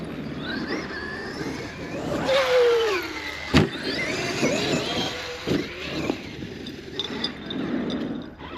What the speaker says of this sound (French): Là j'ai remis un peu de gaz pour que les roues continuent à tourner pour pouvoir freiner et le ramener.